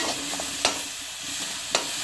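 Onion sizzles softly in a pan, a steady low frying hiss with two sharp spoon taps or scrapes against the pan as it is stirred.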